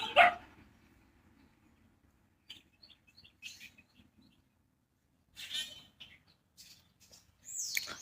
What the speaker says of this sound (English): Do you even know what you're barking about?